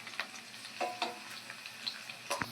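Finely chopped garlic frying in hot oil, a faint, steady sizzle with scattered crackles and pops, heard on its own without talking.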